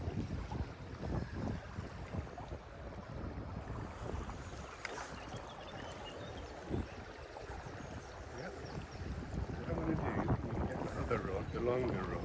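Gusty wind buffets the microphone beside a river while fly fishing for salmon, rough and uneven rumbling that swells and eases, with water and faint voices underneath.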